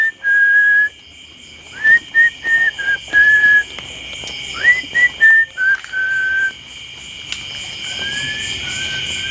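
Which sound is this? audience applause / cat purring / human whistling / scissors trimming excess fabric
human whistling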